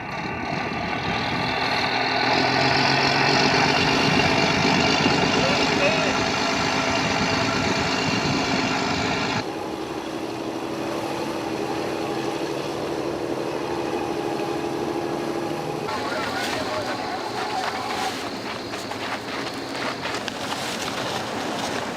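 Droning fishing boat engine running steadily for a long stretch, with wind and splashing water over it, loud and continuous without speech.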